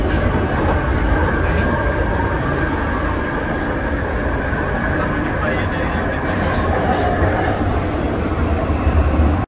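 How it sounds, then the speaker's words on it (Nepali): Riding inside a London Underground Tube train, a loud continuous rumble of wheels and carriage noise holds steady throughout, ending abruptly. "हामी अर्को ट्रेनमा बस्यौँ।"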